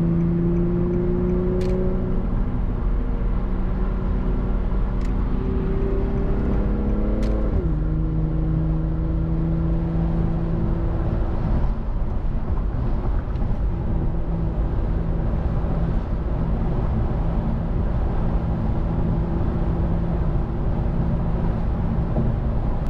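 Car in sport mode with a custom Speed Culture Studios exhaust downshifting on its own: engine note climbs in blips around seven seconds, then settles into a steady loud drone with road and wind noise, no talking.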